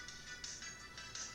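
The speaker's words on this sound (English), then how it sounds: "That's my ringtone" A mobile phone ringtone plays alone, a bright repeating electronic melody in quick rising and falling bursts, moderately close and steady for the whole moment.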